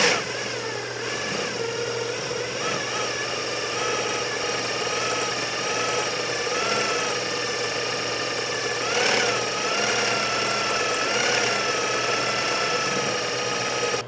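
A servo motor hums steadily at about 1200 RPM, a continuous close drone with a slight waver in pitch and no pauses.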